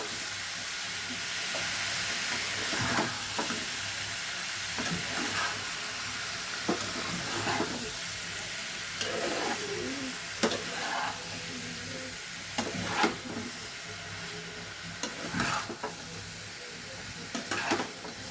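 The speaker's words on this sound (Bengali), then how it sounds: "ভালো করে মিশিয়ে নিয়ে" Semolina pasta being stirred in a frying pan, with a steady sizzle under repeated scraping strokes of the utensil through the food, fairly close and continuous throughout.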